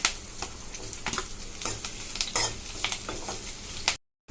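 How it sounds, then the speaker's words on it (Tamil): Onion and curry leaves sauté with ginger in a pan for ginger chutney, giving a steady, close sizzle broken by irregular stirring scrapes and clicks until it cuts off abruptly. "வெங்காயம் வந்துட்டு இப்போ பாதி வதங்கி இருக்குங்க."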